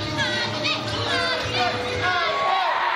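A wrestling crowd at a UEWA heavyweight championship show cheers and shouts for a wrestler's entrance, a dense, steady roar of many voices with whoops and high yells, while commentators talk over it.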